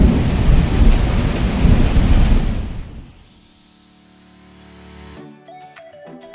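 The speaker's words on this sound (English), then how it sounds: "Every day is thunder and lightning." Heavy thunderstorm at sea aboard a sailboat, loud rain roaring with deep thunder rumbles for about three seconds, then fading away into near silence before a few faint tonal chimes.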